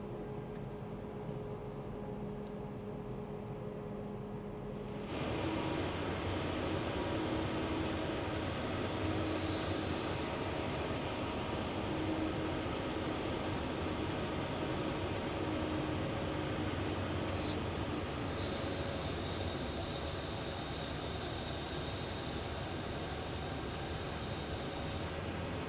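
A tractor pulling a grain bag extractor, its engine and machinery giving a steady, heavy broadband drone that jumps louder after a few seconds and then holds with little change outdoors.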